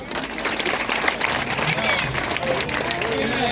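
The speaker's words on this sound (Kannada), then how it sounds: "ಹೊಡೆಯಪ್ಪ ಚಪ್ಪಾಳೆನ" Audience applauding at a crowded live gathering, dense continuous clapping that fills the space loudly, with voices mixed in throughout.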